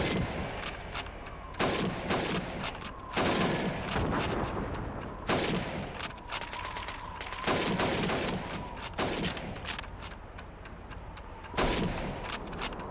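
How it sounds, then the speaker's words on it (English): Repeated rifle shots from a Call of Duty 2 training mission where helmets are shot, sharp loud cracks every second or two, each with a ringing tail, over a steady background hum. "You have 15 seconds to shoot the helmets."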